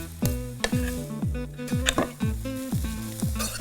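Noodles toasting in a pan for vegetable spring rolls sizzle steadily, with a quick, regular rhythm of stirring and scraping strokes. The sound is close and moderately loud, and no one speaks.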